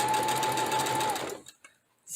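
A sewing machine stitches a wristlet for about a second and a half, a fast close mechanical whirr, then stops, leaving a few faint handling sounds.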